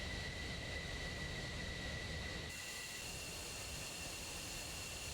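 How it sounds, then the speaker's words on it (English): Jet engines of a Tomcat and an Eagle lining up on a runway in a flight combat video game, a steady distant turbine whine and rumble with a high tone that drops off midway, no voices. "It looks like the Tomcat and Eagle are just now taking the runway, so they'll be readying up soon."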